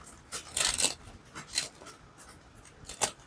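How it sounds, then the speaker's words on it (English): Quick papery riffling bursts of a tiny mini tarot card deck being shuffled, a few short flurries with pauses between, close and fairly quiet. "So let's see how the deck shuffles."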